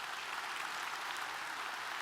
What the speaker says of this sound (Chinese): 我们给我们这些前排的领导人全部一个热烈掌声